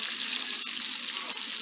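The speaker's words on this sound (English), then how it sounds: "here's a sneak peek at the bacon frying up" Bacon fries in a pan with a steady, close crackling sizzle, constant and fairly quiet, without voices over it.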